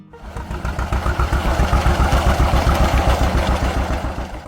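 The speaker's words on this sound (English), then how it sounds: "engines that start with one slow turn of that hand crank, and a puff of smoke" Old tractor engine idling after starting, a loud, close, slow rhythmic chugging with evenly spaced thumps that picks up and settles into a steady beat, with no voices.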